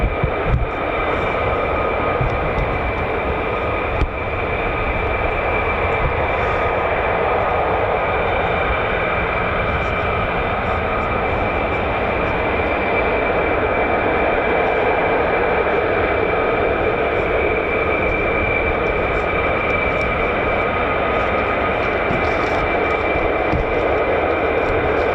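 F-15 or F-35 fighter jets of the 48th Fighter Wing arriving at RAF Lakenheath: a sustained, steady roar of jet engines with broad hiss, loud and unbroken throughout, with no voices.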